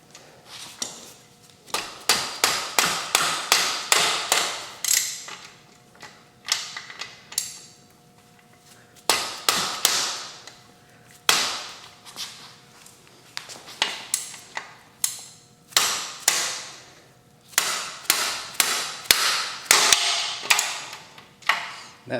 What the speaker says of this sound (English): for that stubborn one, again, we're just going to use a ratchet